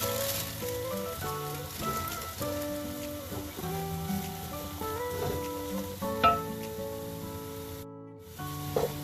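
Curry paste sizzles with a steady hiss in a hot pan, with occasional scrapes and clinks of stirring over a continuous background.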